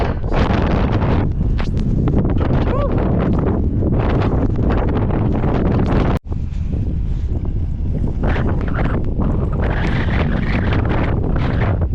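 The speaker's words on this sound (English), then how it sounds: "I think it still is really windy outside" Strong wind outdoors in Montana roars and buffets the microphone in heavy rumbling gusts, loud and continuous, with a brief dropout partway through.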